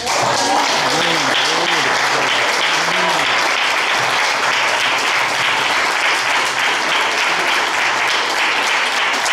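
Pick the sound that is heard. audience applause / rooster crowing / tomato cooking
audience applause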